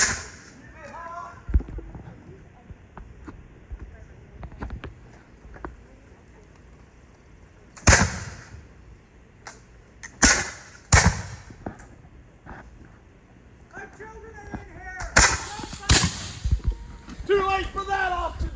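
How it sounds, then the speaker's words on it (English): Gunfire trades back and forth during a historical reenactment at the Alston House, the House in the Horseshoe, with several sharp, loud shots scattered through the clip and shouting voices in between. "After several exchanges of gunfire"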